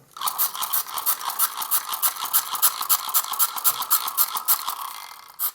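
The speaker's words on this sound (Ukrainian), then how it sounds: "А тепер вмикаємо режим генератора." An AliExpress hand-crank flashlight in generator mode whirs and clicks in fast, regular bursts as it is wound, a close, rhythmic ratcheting that carries on for several seconds.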